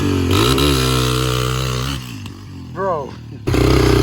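A dirt bike with an oversized rear sprocket launches in fifth gear, its engine a loud, close drone that holds steady, dips, rises briefly and then roars back at the end, under a voice talking.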